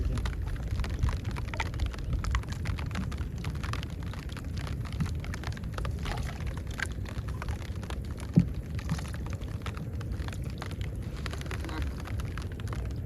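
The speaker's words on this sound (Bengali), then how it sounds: "বৃষ্টি বন্ধ হয়ে গেছিল আবার শুরু হয়ে গেছে।" Rain falls on a river in the Sundarbans during a fishing trip, a soft, even hiss of drops that stays low and steady throughout, with one brief knock partway through.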